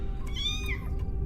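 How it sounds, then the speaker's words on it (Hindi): A cat meows close by, one drawn-out tonal call rising then falling, over a constant low rumble like a train or metro interior. "आवाज बिल्ली की थी और बहुत नजदीक से आ रही थी"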